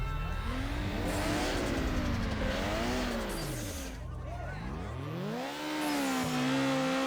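Race-car engine revving hard during a drag race in Need for Speed Underground, pitch sweeping up and down through repeated gear shifts, loud and continuous, with a person talking over it.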